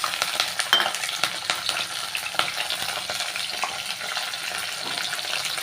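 Mustard seeds, fennel and small shallots fry in hot oil with a dense, steady sizzle, crackling and popping throughout, with occasional stirring scrapes.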